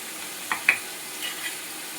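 Capsicum and other vegetables fry in a pan with salt and turmeric, giving a soft, faint sizzle with a couple of light clicks of stirring, quiet and steady throughout.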